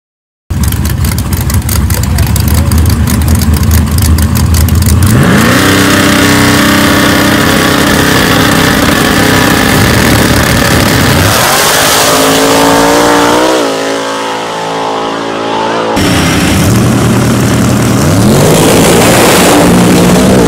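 Drag racing car on a bye run in the right-hand lane at the track, its engine loud and close, idling roughly before revving hard, dipping briefly, then roaring again, with no talk over it.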